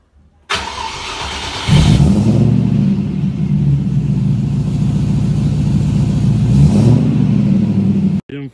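The 4-litre Rover V8 of a classic car fires up and swells into a loud, steady, deep rumble. It holds there for several seconds, then cuts off abruptly.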